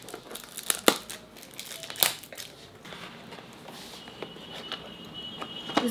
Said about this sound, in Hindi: अब इसको अनबॉक्स कर रही हूँ।